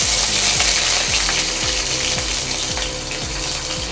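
Green chillies dropped into hot oil for an egg curry, a loud, dense sizzle and spatter close up, continuous with a bubbling rhythmic churn underneath.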